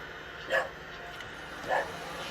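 A dog barks outside near a woodturning workshop, giving two separate short barks about a second apart, moderately distant over a low steady background hum.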